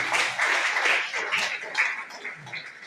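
Steady audience applause follows a correct answer at a school quiz match. The clapping is dense and fairly close, holds for a few seconds and tapers slightly at the end, with no talk over it.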